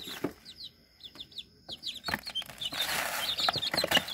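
Baby farm birds chirp and peep in quick, high bursts while pecking at dehydrated mealworms, with scratchy rustling and pecking filling the second half, close and fairly busy.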